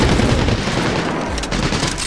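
A big gun in Medal of Honor: Warfighter fires a sustained, dense barrage of booming shots, loud and continuous, with no voices.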